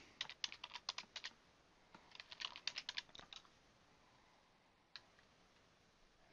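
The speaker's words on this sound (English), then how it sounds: "And then type in your password." Typing on a computer keyboard during a Dropbox sign-in: two quick bursts of light, crisp key clicks, then a pause and a single later click, fairly faint and with no talking.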